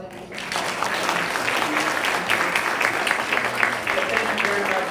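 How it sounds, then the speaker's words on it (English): A conference audience gives panelists a round of applause, the dense clapping swelling in quickly and holding steady for several seconds with a faint murmur of voices underneath. "Can I have a round of applause for these?"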